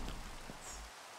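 Steady rain falls in a Minecraft Pixelmon game world, a soft continuous hiss with a low rumble underneath that cuts out near the end, with no talking.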